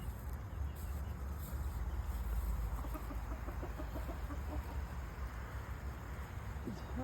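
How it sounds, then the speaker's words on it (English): Hens and a rooster clucking on a farm, faint scattered clucks over a low rumble of wind or handling noise, with soft rustling throughout. "He's not gonna mess with the sweet hens or the sweet rooster."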